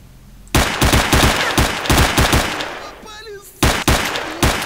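Rapid gunfire from the game S.T.A.L.K.E.R.: Shadow of Chernobyl, a loud burst of close shots in quick rhythm, a short pause with a brief whistling sound, then several more shots.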